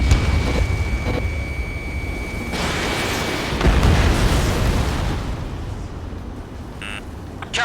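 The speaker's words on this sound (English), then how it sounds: "Page 2, missile launch" Missile launch and explosion in the jet combat game Ace Combat 7: Skies Unknown, a loud continuous roaring rush that swells into a heavier booming burst midway, with a steady high tone early on and brief electronic beeps near the end, no voices.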